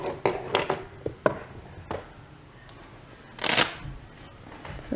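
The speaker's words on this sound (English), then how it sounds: "So let's just go ahead and stuff my cash envelopes." Paper cash bills handled and riffled while stuffing budget envelopes: quick, close rustling and flicking bursts with short pauses between them, including one longer, louder riffle near the middle.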